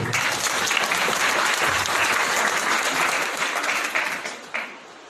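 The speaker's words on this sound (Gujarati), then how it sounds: "આપણે બધાને તાળીઓથી વધાવી લઈશું" An audience claps to welcome visitors at an ashram gathering, a dense burst of applause that holds steady, then thins out and fades near the end.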